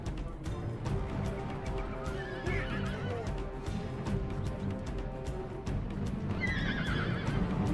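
Cavalry horses neigh and whinny repeatedly amid a battle in Rome Total War Remastered, with hoof clatter and a steady background din; a louder, closer whinny rises near the end.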